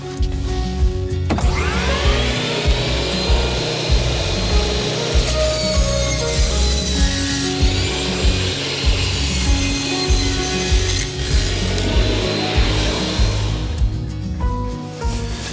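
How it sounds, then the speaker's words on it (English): A power saw cuts a wooden board into strips for building a bee swarm trap, a loud whirring motor with rising and falling cutting tones as the blade bites through wood in a few passes, close up and without speech. "we're gonna actually need to cut them into 18 3/8 inches strips"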